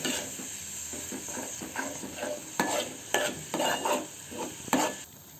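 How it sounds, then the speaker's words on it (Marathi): Red chili masala sautéing in oil for a tomato saar, with a close, continuous sizzle under repeated scraping strokes of a spoon stirring against the pan, no talking. "मग लाल तिखट मसाला परतवून घ्या हे तेल सुटेपर्यंत परतवून घ्या"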